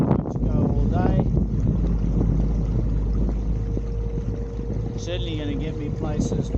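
A Hobie electric motor fitted in a MirageDrive pushes a kayak along at 4.7 knots on about 340 watts, with a steady low hum of motion through water and wind buffeting the microphone throughout.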